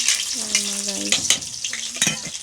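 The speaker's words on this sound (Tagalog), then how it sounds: "So ginisa ko lang pala yan." Camote (sweet potato) tops sauté in a pan with a bright, crackling sizzle, punctuated by a few sharp clanks of a utensil stirring against the pan, close and loud.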